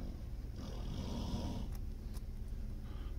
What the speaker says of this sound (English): Sorry about the bear snoring in the background.